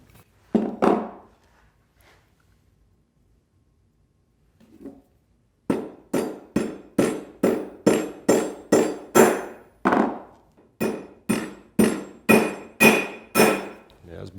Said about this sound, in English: we want a nice vertical motion and sink those rivets in with some authority